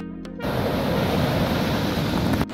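Sea waves at Velneshwar beach near Guhagar, Ratnagiri. After a short quiet start, a continuous, fairly loud wash of surf fills the rest of the moment.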